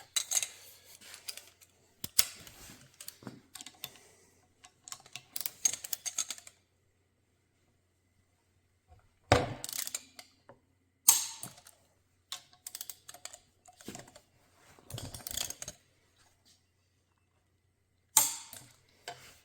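Rapid bursts of close mechanical clicking, like a ratchet wrench, come in several separate runs with quiet gaps while bolts are tightened to 50 to 55 Nm on air-cooled Porsche crankshaft parts.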